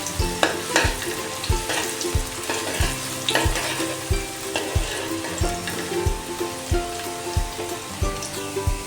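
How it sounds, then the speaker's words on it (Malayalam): Ginger and garlic fry in hot coconut oil alongside cardamom, cloves and cinnamon for a vegetable stew, a steady close sizzle broken by regular rhythmic scrapes and taps of a stirring spoon, with no voices. "ഇഞ്ചി വെളുത്തുള്ളി നന്നായിട്ട് മൂത്ത് വന്നിട്ടുണ്ട്"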